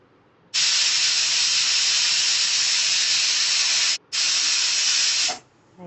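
A pressure cooker whistles while a meal maker biryani cooks: a loud, steady hiss of escaping steam that runs nearly five seconds, cuts out briefly, then resumes before fading, with no talk over it.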